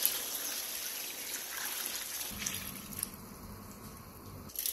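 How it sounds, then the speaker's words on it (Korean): Salt water is poured over napa cabbage for kimchi, a soft continuous trickling stream with faint splashes and wet squishing, close but quiet, fading out near the end. "그 다음 배추가 잠길 정도로 소금물을 골고루 부어주세요."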